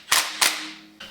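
A torque wrench clicks sharply twice in quick succession while tightening a cam gear on an engine, followed by a softer third click after a short pause.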